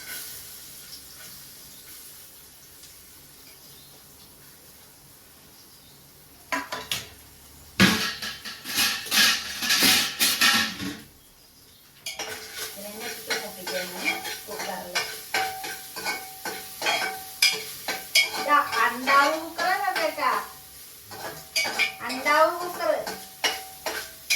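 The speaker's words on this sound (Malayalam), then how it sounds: "പിന്നെ ഇതാ നാളികേരം ചെറുതാക്കി അരിഞ്ഞത് അത് ആദ്യം മൂപ്പിക്കാം" Chopped coconut frying in coconut oil, a quiet hiss at first, then a sudden loud burst of sizzling as it hits the pan, settling into busy crackling with stirring scrapes, close and with no talk.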